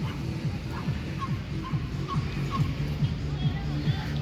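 Dogs bark and yip repeatedly in quick rhythmic bursts at a riverside dog park along the Pasig River, fairly close and steady, with a soft whimper mixed in over light crowd noise.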